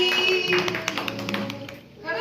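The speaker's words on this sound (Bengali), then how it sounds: "হাততালি হাততালি" Hands clapping at a family birthday celebration, a quick run of close claps mixed with voices, including children, talking and cheering.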